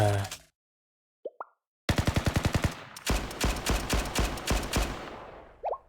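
Rapid gunfire from the Blue Archive video game: a burst of evenly spaced sharp shots, then a longer stuttering volley of louder automatic fire, with a couple of brief soft chirps before and after, and no talking.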